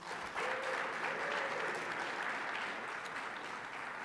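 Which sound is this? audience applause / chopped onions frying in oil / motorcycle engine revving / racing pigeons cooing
audience applause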